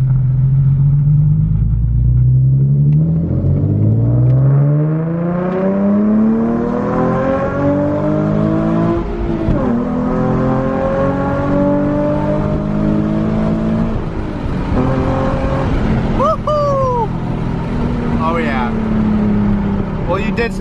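A Nissan 370Z with new wheels and a rear diffuser launches hard, its engine roaring loudly up through the revs with rising pitch, a gear change, then climbing again, heard from inside the car.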